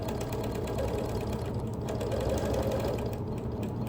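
A sewing machine runs steadily while quilting around rows of embroidery on an appliqué quilt, a continuous close mechanical whir and rapid needle chatter with no talking.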